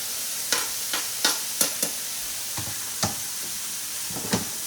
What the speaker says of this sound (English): We probably want to give that a stir.